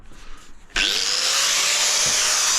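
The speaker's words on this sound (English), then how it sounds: "This is how you cut a hole with a grinder, 4-inch grinder." A 4-inch angle grinder cuts a round hole in porcelain tile. After a brief quiet start it snaps on into a loud, steady, close whine that spins up and holds without a break.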